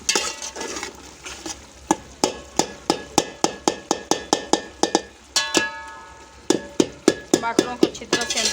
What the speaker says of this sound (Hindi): गरम मसाला डाल लेंगे इसमें और इसे अच्छी तरह से करेंगे मिक्स